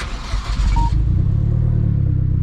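A Hyundai Genesis Coupe engine cranks briefly with a loud whirring churn, then catches and settles into a steady, rumbling idle close by.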